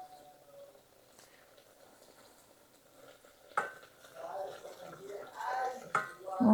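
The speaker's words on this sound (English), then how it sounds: "Now we're going to add our 6 tablespoons of butter, and this will bubble it up" Caramel sauce sizzles and bubbles in a pot after butter is added, quiet at first, then a sudden burst of hissing and bubbling that keeps going, with a whisk stirring.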